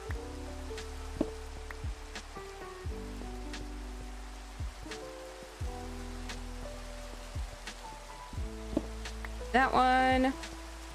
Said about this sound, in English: I love when it rains.